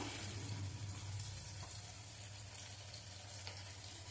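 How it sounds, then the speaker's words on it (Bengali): Spice pastes of chilli, cumin and ginger sautéing in a pan for a chicken and potato kosha, a steady low sizzle with faint stirring scrapes, continuous throughout with no talk. "আর আদা বাটা দিয়ে মশলাটা ভালোভাবে কিছুক্ষণ কষাবো"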